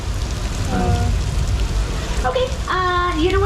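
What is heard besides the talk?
rain effect on Universal Studios Hollywood studio tour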